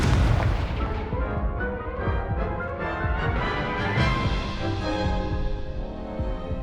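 Booming Confringo explosion spells go off in Hogwarts Legacy, a string of loud, close blasts and crackling bursts rolling through several seconds with no talk.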